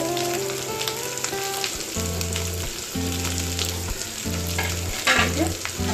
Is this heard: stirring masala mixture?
yes